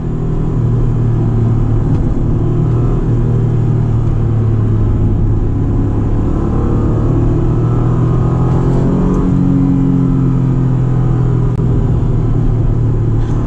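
Acura NSX engine revving and pulling hard on a spirited drive, a loud continuous rumble with rising and falling engine pitch heard from inside the cabin, steady throughout with no talking.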